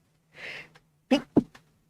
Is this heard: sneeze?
yes